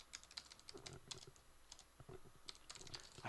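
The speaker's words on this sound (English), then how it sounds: "I hate typing this freaking catch stuff." Rapid, soft clicking of fingers typing on a computer keyboard, a quick irregular run of keystrokes in a quiet room.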